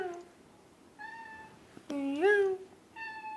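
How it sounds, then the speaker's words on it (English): A house cat meows three times in short, rising calls, fairly close and clear against a quiet room. "Oh, my cat says I need to take a break too."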